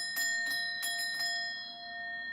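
A bell rung several times in quick bursts, bright metallic strikes with long ringing overtones that sustain and slowly fade, fairly close and alone without talk.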